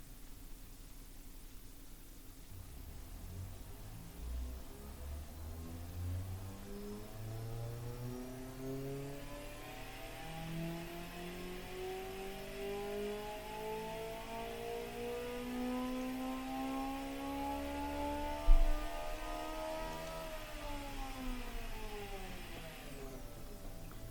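A video game turbocharged engine in a 2015 car revs up steadily through rising pitch toward a 9700 RPM rev limit, a smooth whining climb with a brief exhaust pop near the end.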